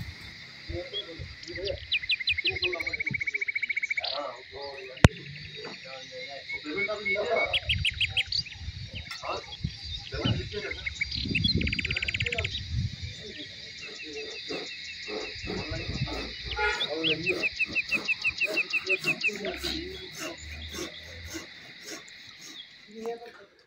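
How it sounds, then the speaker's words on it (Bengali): Insects chirp and trill continuously in steady high pulses around a rooftop in a Darjeeling hill village, with birds calling through them and people talking underneath. "চারিদিকে শুধু ঝিঝি পোকার ডাক"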